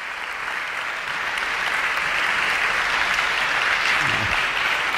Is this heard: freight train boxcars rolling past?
no